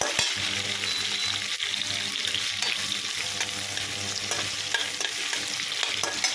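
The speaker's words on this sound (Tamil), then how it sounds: "இப்போ இது நல்லா வதங்குது வெங்காயம்" Onions sautéing in a pan for white mutton gravy, a continuous dense sizzle with scraping stir sounds throughout, close and alone without speech.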